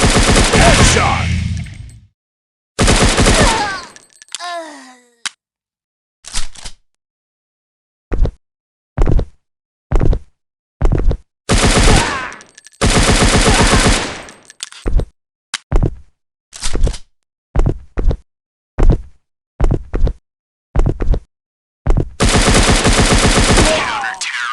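Gunfire in the game Counter-Strike: repeated loud bursts and single shots in irregular rhythm, some long sustained automatic volleys, with short gaps between, close and dominant.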